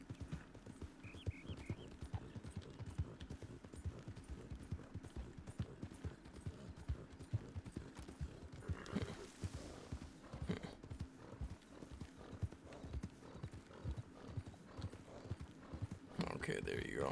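Hooves clip-clop steadily on the ground in a ranch roleplay video game, a rapid close rhythm of footfalls with an occasional whinny, while a voice talks over much of it.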